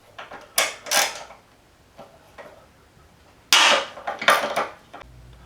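Metal fasteners being loosened and removed with a T40 Torx driver from a motorcycle fuel tank and frame in a workshop: a few separate clicking, ratcheting bursts with short pauses between them, close and fairly quiet.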